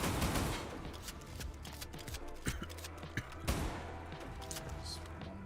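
Rapid bursts of gunfire from a weapon in a zombies video game, dense shots with sharper cracks at intervals, with a voice talking over them.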